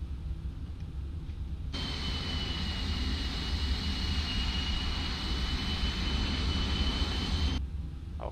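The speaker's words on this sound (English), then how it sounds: "there was a small private jet" A small private jet in Microsoft Flight Simulator produces a steady, moderately loud engine whine with a sustained high tone over a broad roar, cutting in abruptly and holding for several seconds before dropping away, with no talk.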